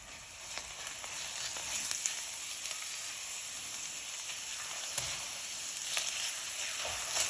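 Minced garlic and onion sizzle in a hot pan for bourbon chicken, a soft, steady frying hiss with occasional light clicks from stirring, with no voices.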